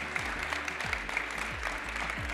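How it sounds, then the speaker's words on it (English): Audience applause for young architects at a student architecture awards ceremony, steady and moderately loud throughout, with low musical tones running underneath. "Can you please give them a round of applause one more time?"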